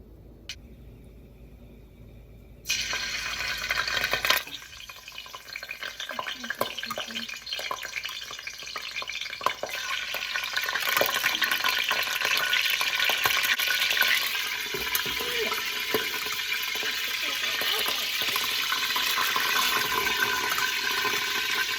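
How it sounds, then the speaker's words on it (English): Pork belly frying in a pan for lechon kawali: a quiet start breaks into a loud, steady crackling sizzle that continues unbroken, with bubbling spatter throughout. "And now time to fry the pork belly."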